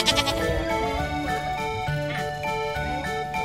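Sheep bleat at Alpaca Hill farm in Suan Phueng, Ratchaburi, with several wavering, nasal calls overlapping close by. The loud, steady chorus carries through the whole stretch, and a faint jingle sits underneath.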